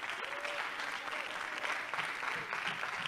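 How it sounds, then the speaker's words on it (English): A church congregation claps hands in praise, a dense, sustained burst of group clapping with a few voices rising through it. "Give God a hand clap of praise."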